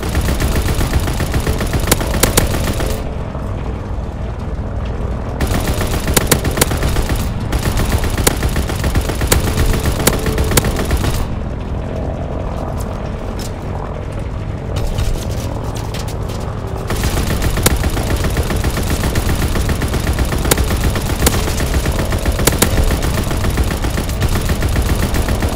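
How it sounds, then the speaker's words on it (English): Anti-aircraft flak gunfire from an aircraft gunner turret in the Call of Duty: WWII Sainte-Marie-du-Mont mission: dense, sustained booming and rattling bursts that run loud and nearly continuous throughout, with brief dips between volleys. "Flak bursts commenced. Targeting enemy aircraft."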